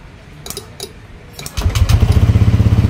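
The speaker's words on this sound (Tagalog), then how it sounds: "Nakita nyo, nag-start na yung motor." A Honda Click V2 scooter that would not push start fires up after a few clicks and whirs, then settles into a loud, close, rapidly pulsing engine run.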